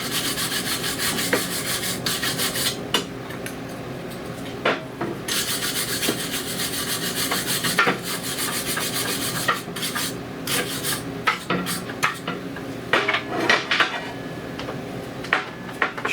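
Steady rubbing and scraping of brake caliper hardware being cleaned on a 2016 Honda Pilot, a continuous close rasping with occasional sharper clicks and scrapes, no talk.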